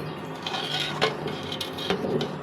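A spoon scrapes and clinks against a pot while payesh, rice pudding sweetened with jaggery, is stirred, giving a few sharp metallic knocks over a soft, steady background.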